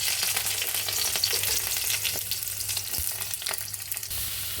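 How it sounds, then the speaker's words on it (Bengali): Carrots and chili sizzle and crackle steadily in a small amount of hot oil for meat chow mein, a continuous close frying hiss with occasional stirring knocks and no talking. "অল্প করে তেল দিয়েছি। এবার একটু গাজর, লঙ্কা দেব।"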